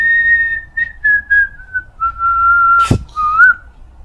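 A person whistles a slow, clear tune from Phantom of the Opera during a tabletop Dungeons & Dragons session, long sustained notes close by, broken once by a brief sharp knock.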